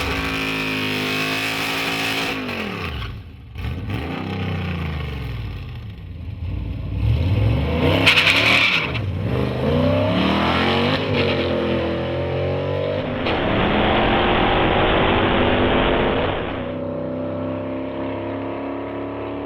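A loud 2010 Dodge Challenger Street Pak accelerates down a drag strip with its exhaust cutout open, revving and roaring through rising, shifting gear pulls, the exhaust blaring steadily with no voices.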